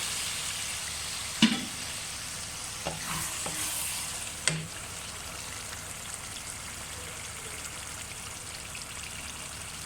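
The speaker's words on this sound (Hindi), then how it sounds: "ये हम गाजर इसके अंदर ऐड कर रहे हैं और शिमला मिर्च ऐड कर रहे हैं, और इसको अच्छे तरीके से हम फिर फ्राई करेंगे" Carrots and capsicum for vegetable biryani sizzle steadily in a pan, with a few sharp clanks of stirring early on and no talk.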